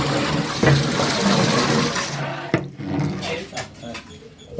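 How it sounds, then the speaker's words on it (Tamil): Water gushes steadily into a large cooking pot for chicken biryani, a loud continuous pour that stops about halfway through, followed by a few clanks and drips. "உலக்கி ஒரு 17 படி தண்ணி ஊற்றிக்கலாம்."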